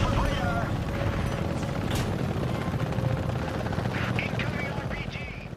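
An Apache helicopter in the video game Apache: Air Assault fills the scene with a steady rotor thrum, loud and continuous, with faint mechanical whines and a voice speaking over the roar.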